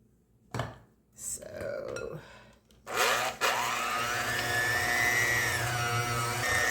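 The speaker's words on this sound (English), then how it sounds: "we're going to take our blender and blend this together." After some clattering and knocks, a blender whirs steadily and loudly, its pitch sliding as it churns a cream cheese and sweetened condensed milk mixture for several seconds.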